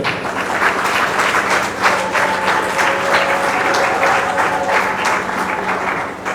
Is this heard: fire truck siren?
no